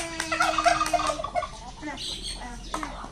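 A turkey gobbles close by in a rapid, rattling burst, followed by a few softer calls and bird sounds on a farm, fairly loud with no clear speech.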